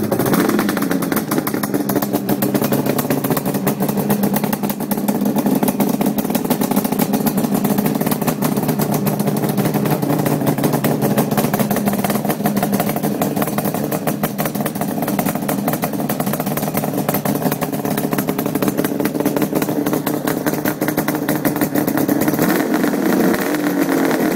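Suzuki GT750 motorcycle, mostly stock with Gemco pipes, running loud and close: a continuous raspy two-stroke roar that holds steady at a busy idle with slight revving swells throughout, no talk.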